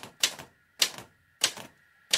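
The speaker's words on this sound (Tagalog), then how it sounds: "Walang sagot, pero ang typewriter ay patuloy pa rin." An old manual typewriter clacks in slow, spaced bursts, each keystroke cluster sharp and close, repeating about every half second in an otherwise quiet room.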